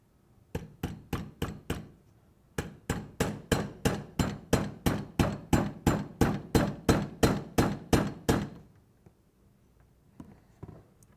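Retaining pins being tapped back into the drive rollers of an FSK belt skiver: two bursts of sharp, evenly spaced metallic hammer blows, a short run of four then a longer steady series of about twenty, close and clear before stopping.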